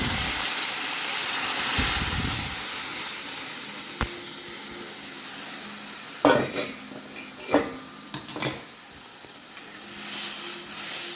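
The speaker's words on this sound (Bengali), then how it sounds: "দেখো পেঁয়াজ রসুন ফোড়ন দিয়েছি" Onion and garlic tempering in hot oil for thin masoor dal. It makes a soft, steady sizzle with scattered sharp clinks and scrapes of a utensil against the pan, and no voices.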